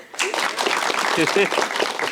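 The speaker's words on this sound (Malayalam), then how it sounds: "ഒരു കയ്യടി കൊടുത്തേ." An audience at a college event bursts into sustained clapping and cheering right after a short pause, loud and close, with voices mixed into the applause throughout.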